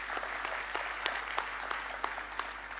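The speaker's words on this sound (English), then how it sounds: "I think you can clap to that one" Graduation ceremony audience applauding, a fairly faint, scattered clapping from a crowd in a large hall with a low steady hum underneath.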